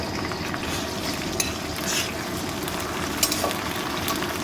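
Onions sizzle steadily in hot oil in a pan for a chicken dish as water goes in. The frying hiss stays broad and even throughout, with a few faint utensil clinks and no talking.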